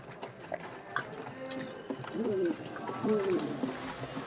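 Young Andhra pigeons give soft, low cooing calls in a few short rolling phrases, faint against a noisy background with scattered clicks and knocks.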